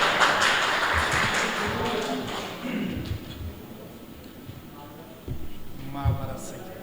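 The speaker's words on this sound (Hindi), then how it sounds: "आइए आप तालियां बजाएंगे" Audience applause for the poet Mawra Syed at an arts council gathering, a noisy clatter that fades over the first two seconds before a voice begins speaking.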